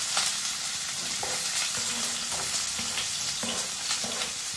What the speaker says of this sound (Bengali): ফার্স্টে দিয়ে দিচ্ছি তেল, এখন এটার মধ্যে দিয়ে দিব পেঁয়াজ কুচি।